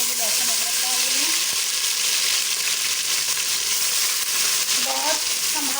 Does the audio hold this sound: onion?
yes